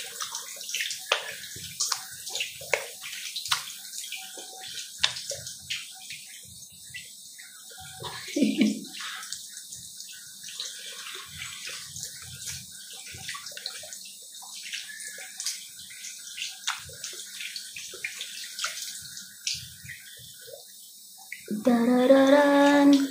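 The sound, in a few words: water rinsing face at a sink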